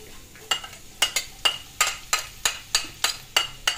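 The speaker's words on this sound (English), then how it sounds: "we're gonna saute the garlic" Garlic sauteing in oil in a pan, with a utensil scraping and tapping against the pan in a quick, regular rhythm over a faint sizzle, close by.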